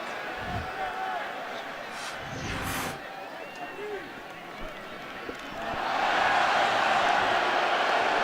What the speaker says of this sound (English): And you hear the crowd reacting because they're seeing the replay here at Qualcomm Stadium.